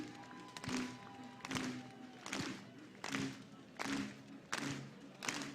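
Rowing fans in a grandstand clapping in unison, slow rhythmic rounds of claps about every three-quarters of a second, fairly faint and distant-sounding with a voice leading them.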